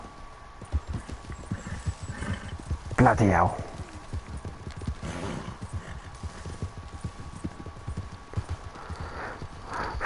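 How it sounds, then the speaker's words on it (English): Horse hooves clip-clop steadily throughout while riding around a lake in Red Dead Redemption 2 online, a rhythmic gallop close up, with a voice talking briefly over it. "I'm kind of just like riding around here"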